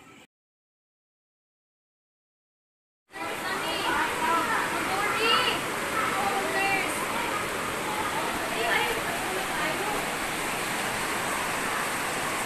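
Rushing floodwater during a sudden flood, a broad, continuous roar that starts abruptly after a few seconds of silence, with excited voices calling out over the torrent.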